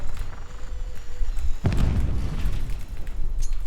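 A loud, deep explosion boom in Call of Duty: Black Ops 6 Team Deathmatch erupts partway through over steady background noise, followed by a rumbling tail that fades slowly.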